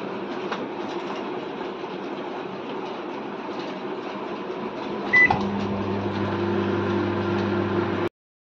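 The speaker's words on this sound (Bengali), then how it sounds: "তা মাইক্রোওভেনে গরম করি," A microwave oven reheating food at a 540 setting hums steadily and closely; a brief beep sounds partway through, then the hum settles into a deeper, steady drone until it cuts off.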